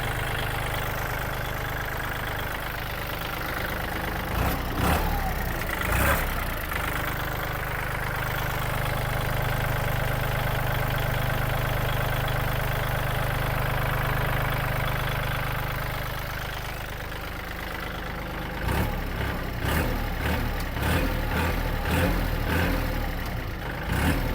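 A Kubota L4018 tractor, registered in 2022 and in good mechanical condition, idles with a steady, loud, low diesel throb. Scattered clicks and knocks break in around the five-second mark and again near the end.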